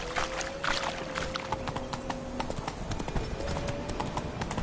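A horse's hooves clip-clop in a steady, rhythmic trot in a video game, close and continuous over a bed of ambient game noise.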